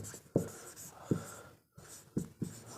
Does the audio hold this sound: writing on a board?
yes